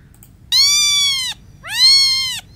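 A cat gives two drawn-out, clear meows with a short pause between them, close and loud over faint background hum.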